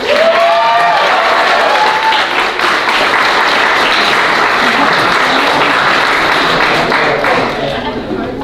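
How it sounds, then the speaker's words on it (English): An audience at a college international dinner applauds loudly and steadily for about eight seconds, with a voice audible briefly at the start over the sustained clapping. "Give them a round of applause, guys."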